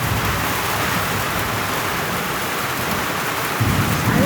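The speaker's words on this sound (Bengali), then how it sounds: "আমাদের এখানে কিভাবে বৃষ্টি হচ্ছে দেখাচ্ছি আপনাদের" Heavy daytime rain pours steadily in a dense, unbroken roar, with a low thunder rumble swelling near the end and no voices.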